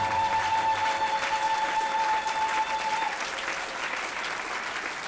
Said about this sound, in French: Acclame encore pour la gloire du Seigneur.